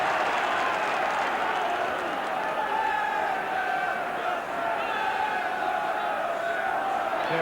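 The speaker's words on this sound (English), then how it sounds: "2 shouts from the crowd there when Souness deflected the ball." A football crowd at an Everton versus Liverpool match roars and shouts steadily throughout, a dense, loud wall of stadium noise with a commentator's voice faintly under it.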